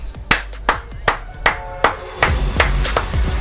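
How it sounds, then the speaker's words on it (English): Sharp hand claps, about a dozen, spaced unevenly at first then quicker, fairly close and loud against a low background rumble at a Fortnite tournament viewing party. "I'm just clapping because I can."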